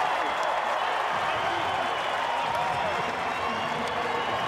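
Super Rugby Pacific stadium crowd roaring after a try in a Moana Pasifika v Chiefs match, a broad, steady wall of cheering and clapping that holds evenly throughout, with a commentator's voice talking over it.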